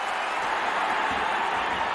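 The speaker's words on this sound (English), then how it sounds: "but the crowd have responded" A boxing arena crowd at Nonito Donaire versus Naoya Inoue roars and applauds in a steady, dense wash of cheering and clapping that fills the whole moment, loud and continuous.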